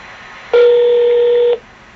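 A single loud, steady telephone dialing tone lasting about a second, heard close up and alone while a call is placed to a newspaper news desk.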